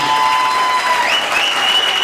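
Worship crowd at an Angolan church bursts into continuous applause and cheering, a dense wash of clapping with a rising sung or shouted tone above it.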